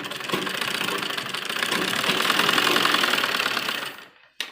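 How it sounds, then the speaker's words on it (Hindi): Sewing machine stitching the shoulder seam of a heavy-work suit, a close, steady rapid mechanical whirr that runs for about four seconds and then stops with a brief final clatter. "इसको हम इस तरह पलटेंगे और यहाँ पर सिलाई लगाएंगे"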